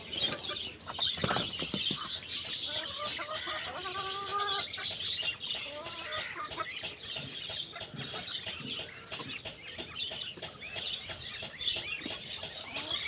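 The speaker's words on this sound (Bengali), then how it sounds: "হাঁস মুরগি একসঙ্গে" Ducks and chickens kept together as pets, soft clucks and chirps with a short run of repeated calls and occasional wing flutters amid steady background noise, no talk.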